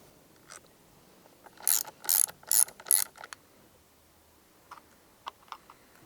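Ratchet clicking in quick bursts while driving a screw into a Barkbusters handguard on a Honda CRF300L, a handful of crisp close ticks followed by a few fainter scattered clicks in a quiet room.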